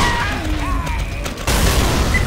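A grenade goes off in Left 4 Dead 2, a sudden loud boom midway that leaves a dense roar of noise, set against ongoing gunfire and game sounds.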